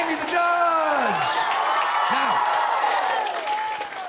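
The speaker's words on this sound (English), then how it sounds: "And give these youngsters a nice round of applause as well." Audience applause and cheering for young performers at a talent show, a loud, dense crowd wash with whoops and shouting voices rising over it throughout.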